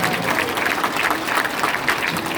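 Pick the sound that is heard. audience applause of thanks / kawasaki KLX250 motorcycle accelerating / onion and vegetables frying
audience applause of thanks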